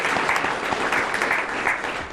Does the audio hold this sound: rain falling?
no